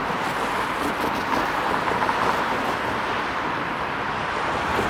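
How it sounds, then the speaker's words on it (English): A constant low rumble with broadband roar fills the whole stretch, steady and fairly loud, as a train passes beneath the Bloor Street East viaduct in Toronto amid traffic noise. "You can hear a train rumbling underneath right now."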